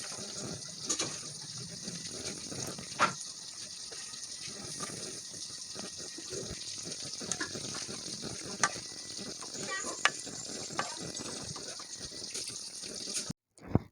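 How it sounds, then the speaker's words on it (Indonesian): Chopped potatoes and tough cabbage stems sizzle steadily in hot oil with spices, a loud, continuous frying hiss with occasional stirring scrapes, close and uninterrupted. "Kemudian kita tambahkan kentang yang sudah dipotong-potong sama batang kol yang agak keras."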